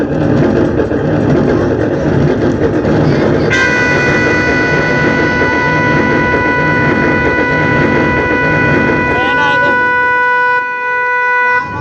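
A train pulls into a railway station in India, a steady loud rumble of wheels and station bustle with a long sustained horn tone entering partway through and holding to the end.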